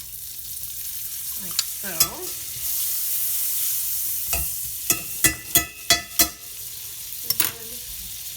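About a quarter cup of butter melting in a pan for chanterelle stuffing, with a soft, steady sizzle broken by a run of sharp, close utensil clacks against the pan, and a brief spoken remark.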